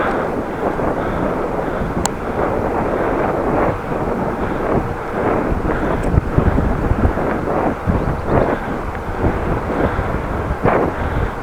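Strong headwind buffets a cyclist riding through Groningen, a loud continuous rumbling roar of wind across the ears with gusty bursts and no speech.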